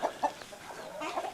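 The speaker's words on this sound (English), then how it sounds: "we got chickens, ducks," Chickens at a Thai farm give a few short, soft clucks in quick succession, fairly close but quiet, with no talk.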